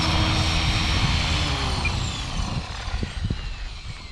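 A TRex 500 XT RC helicopter on its maiden flight gives a loud, steady rotor-and-motor whine that holds continuously, easing slightly toward the end, where a few dull thumps come through.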